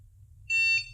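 A single short electronic pairing beep from a hunting dog training collar rings out clearly after a moment of near silence, with a faint low rumble underneath.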